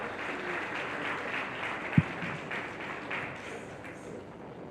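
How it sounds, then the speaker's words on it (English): Moderate applause from a tourism conference audience welcoming a keynote speaker, a soft even wash of clapping heard from a distance, with a single sharp knock near the middle. "Please do that with a very boisterous applause"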